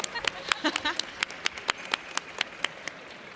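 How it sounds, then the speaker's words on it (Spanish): An audience at a literary panel applauds a poet, with scattered, distinct handclaps spaced irregularly at moderate distance after a brief voice at the start, thinning out toward the end. "Un aplauso para ella, por favor."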